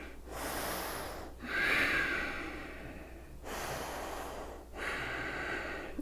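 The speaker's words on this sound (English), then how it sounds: "Nice deep breaths" Deep breathing during a yoga session comes through as slow, close inhales and exhales in a repeating rhythm of about four breaths, with no talking.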